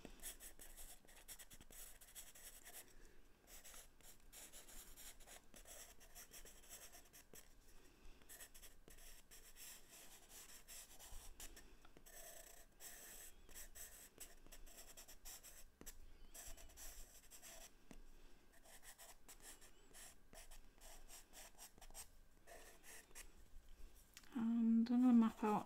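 Charcoal scratches and rubs across paper as light highlight detail is mapped in, a soft continuous close rasp of short strokes and pauses with gentle pressure, ending in a brief louder scrape.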